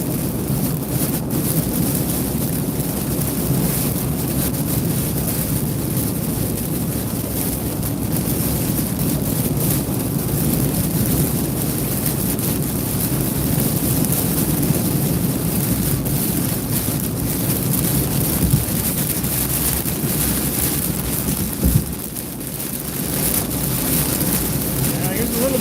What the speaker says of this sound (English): A little bit of wind.